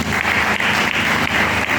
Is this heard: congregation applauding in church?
yes